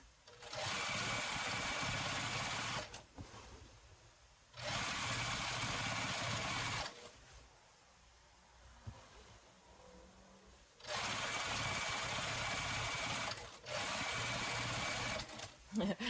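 A sewing machine binds a large quilt, running in three long, loud, steady stretches separated by pauses where a person talks.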